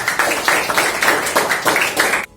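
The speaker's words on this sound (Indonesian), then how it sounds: "Tepuk tangan dong untuk kelas 7A." A class of grade 7A students clapping together, a dense burst of hand claps in steady waves for about two seconds before stopping abruptly.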